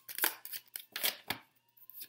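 Smooth, slippery oracle cards being shuffled, a run of quick crisp riffling and snapping bursts in an uneven rhythm, close and fairly quiet.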